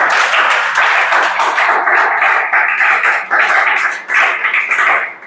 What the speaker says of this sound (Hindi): चला ताली बजाओ एक कर ले